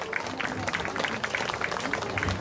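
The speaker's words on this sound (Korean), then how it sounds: "박정숙님의 무대 큰 박수로 모셔보겠습니다" An audience at a singing contest breaks into brisk, continuous clapping to welcome a contestant on stage, a dense, lively burst of applause lasting a couple of seconds.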